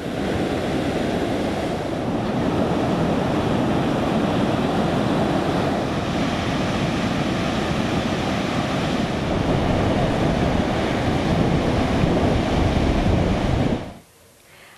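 Surf breaking on Kuta Beach in Bali, a steady loud wash of waves with wind buffeting the microphone, continuous and close, cutting off abruptly near the end.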